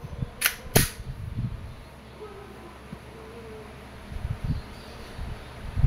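Two sharp, snappy shots from an E&C Glock 45 Gen 5 airsoft gas blowback pistol crack in quick succession near the start, followed by soft handling clicks and rustling.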